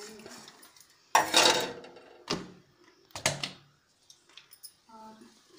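Radish pickle ingredients being mixed in a bowl with sour mango powder, salt, turmeric, panch phoron, green garlic and coriander, heard as a few close clattering scrapes and knocks of utensil against bowl in scattered bursts.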